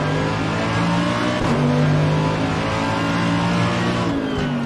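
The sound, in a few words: race car accelerating in video game Assetto Corsa Competizione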